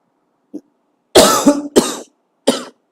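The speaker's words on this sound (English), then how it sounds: "Bit of cough." A few short, sharp coughs, three main bursts after a faint earlier one, close by with nobody talking.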